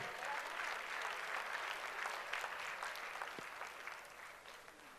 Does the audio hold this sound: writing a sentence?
no